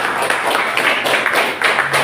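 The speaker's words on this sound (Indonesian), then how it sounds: "beri tepuk tangan semua kelompok" A classroom of students applauds the discussion groups, with steady, dense clapping from many hands that stays fairly loud and continuous throughout.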